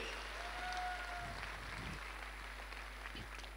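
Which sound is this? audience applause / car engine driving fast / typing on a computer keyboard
audience applause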